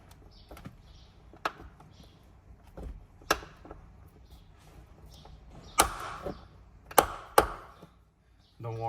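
Plastic screw clip being worked loose from BMW M headliner trim, a series of sharp clicks and snaps, some quite loud, over quiet handling noise and soft rustling.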